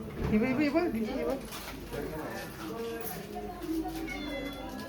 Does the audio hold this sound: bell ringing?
no